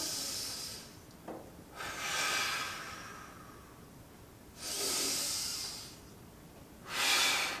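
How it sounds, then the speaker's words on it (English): Slow deep breaths during a back and hip mobility stretch, each long hissing inhale or exhale rising and fading in turn, close and fairly quiet, with a few breaths spread over several seconds and no talking. "we're going to be taking deep breaths"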